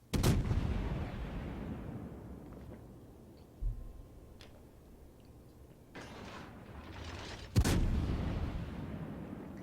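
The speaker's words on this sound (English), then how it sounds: "So the Nagato is still firing HE at the Sinop." Battleship guns fire in a naval video game: a few heavy distant booms with long rolling tails and a sharper blast near the end, all fairly faint and without talk.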